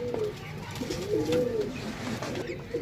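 Pigeons on a rooftop coo in soft, rolling low calls, several overlapping phrases close by, with a faint background hiss.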